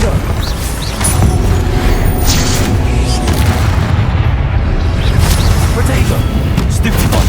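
Confringo blasting spell explosions in the Hogwarts Legacy video game, heavy booming blasts and rumbling impacts in continuous loud game combat, with other spell effects layered throughout.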